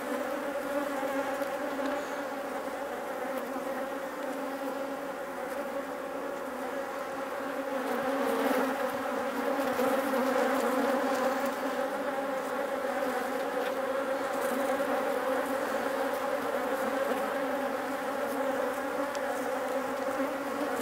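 Honey bees buzz steadily around hives in an apiary, a dense continuous hum that swells a little midway, fairly close and without voices.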